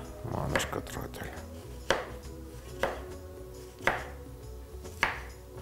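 Food chopped finely on a wooden board while cooking roast turkey, heard as a few knife strokes followed by about four sharp, evenly spaced chops that ring briefly, close and fairly quiet.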